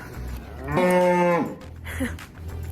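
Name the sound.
in-calf cows mooing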